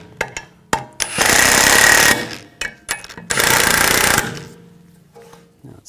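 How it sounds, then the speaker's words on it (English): Hammer blows knocking a seized brake rotor loose on a 2014-2018 GMC Sierra 1500, heard as sharp metallic strikes followed by two long bursts of loud, sustained clattering impacts. "You can just take a hammer and give it a tap."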